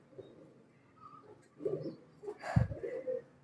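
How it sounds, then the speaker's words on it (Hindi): Soft pigeon coos sound a few times at moderate distance, with a louder thump partway through. "ऐसा लगता है कि किसी कबूतर की आवाज़ है।"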